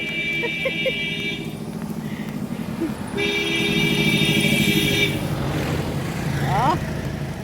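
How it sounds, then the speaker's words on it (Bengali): Traffic streams along a busy main road, a steady close rumble of engines with car horns tooting in long bursts near the start and middle and a brief rising horn late, while a voice talks underneath. "বড় রাস্তা তো এটা একদম সব সময় ব্যস্ত"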